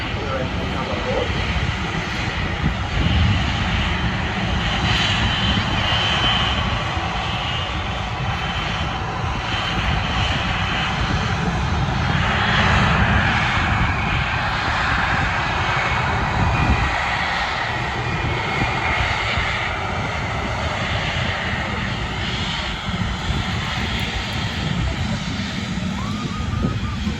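TUI Boeing 737 MAX 8 jet engines at Manchester airport, a steady, loud roar that holds for the full length, with a voice speaking intermittently over it.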